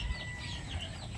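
Butcher gray chickens cluck softly at close range, a few low muffled clucks over a busy background hum, with no talking.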